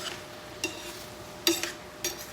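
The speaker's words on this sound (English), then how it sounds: "And just stir that in" Stirring fresh ground pepper into gluten- and dairy-free beef stroganoff in a pan, heard as three soft utensil scrapes against the pan over a faint background hum, with no talking.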